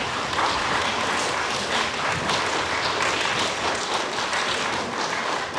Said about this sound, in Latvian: Skaļākus aplausus!